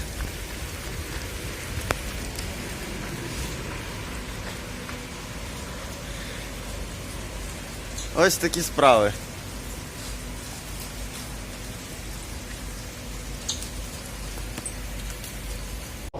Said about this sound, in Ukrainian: Ось такий в нас дощик.